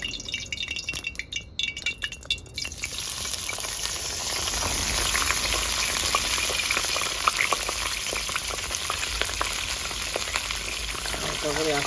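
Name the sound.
cabbage frying in hot oil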